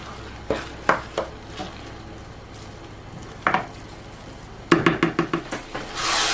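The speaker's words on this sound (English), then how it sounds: "this is how I'll be stirring it until this pepper is completely fried" Pepper fries in a pot for Nigerian Ayamase stew while a utensil stirs it, giving scattered scraping knocks against the pot and a burst of rapid stirring strokes near the end over a low sizzle.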